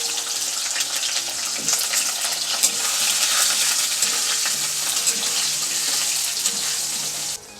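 Potatoes fry in hot oil with panch phoron spices for a vegetarian spinach ghonto, giving a bright, continuous sizzle and hiss close by, steady throughout before cutting off abruptly at the end, no talk.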